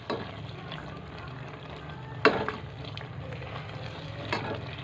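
Chicken pieces with green chillies and garam masala fry steadily in a pan, a constant close sizzle punctuated by a sharp spoon-against-pan clank midway and a few softer stirring scrapes.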